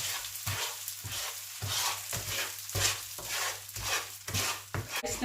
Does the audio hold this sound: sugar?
yes